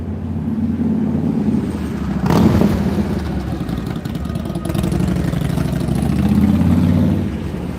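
A motorcycle engine running near a railway line, a steady loud rumble with a brief surge partway through, droning continuously throughout.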